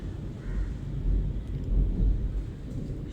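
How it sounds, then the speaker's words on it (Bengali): Low, continuous rumbling of thunder swelling and fading over a few seconds, with a faint hiss of rain in the background. "বলতে পেরেছো মেঘ খুব ডাকছে"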